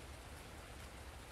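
Rain falls steadily in Farming Simulator 19, a faint, even hiss of raindrops with no other sound.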